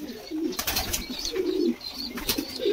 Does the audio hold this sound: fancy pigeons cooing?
yes